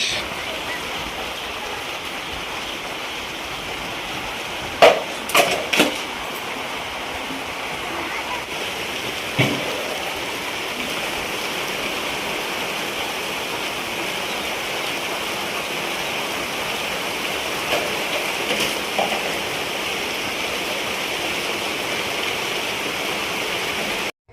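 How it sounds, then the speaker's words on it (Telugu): Steady rain falling outdoors, a continuous soft hiss throughout with a few brief louder splashes and knocks near the start and middle, no talking. "ఈ లోపే టీ తాగే లోపే ఇంకా వర్షం కూడా స్టార్ట్ అయిపోతుంది"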